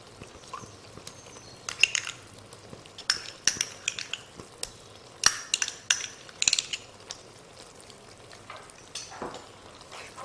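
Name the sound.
stirring tomato puree into chicken jalfrezi sauce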